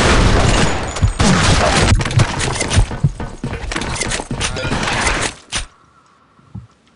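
Grenade explosion and heavy gunfire in a video game: loud, dense bursts of shots and booms crowd the first five and a half seconds, then stop abruptly, leaving a couple of faint thuds.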